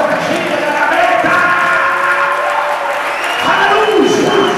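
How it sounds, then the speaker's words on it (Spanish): A church congregation at a Sunday service applauds loudly, with a dense, sustained roar of clapping mixed with cheering and shouting voices, while sustained tones from a singing crowd or music carry beneath it throughout. "Aplauda fuerte los que siguen a la meta."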